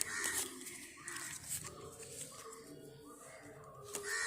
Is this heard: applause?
no